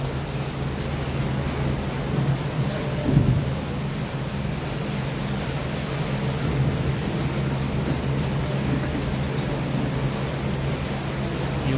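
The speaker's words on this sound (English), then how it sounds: "You can listen, it's raining." Steady heavy rain in Yangon hisses continuously, with a low rumbling undertone like distant thunder throughout.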